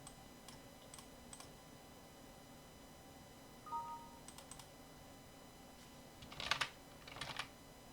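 Typing on a computer keyboard during PLC programming software work: a few sparse, faint key clicks, scattered and quiet against a low background hum.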